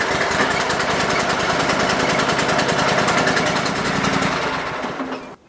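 A ZG23 zero-turn mower tractor engine runs steadily and loudly close by with a rapid chugging pulse, then winds down and cuts out near the end.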